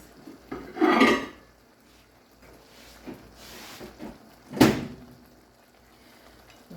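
Hamburger patties going into a pan of seasoned gravy, heard as a few clattering knocks of cookware and utensils, with one loud sharp clank and softer scrapes between.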